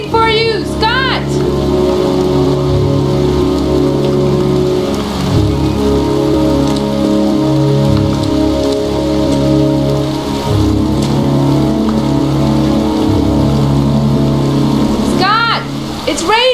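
Steady rain pours throughout a rainy scene in the video game Heavy Rain, a continuous hiss with droning ambience beneath, while a character's voice rises briefly near the start and again near the end.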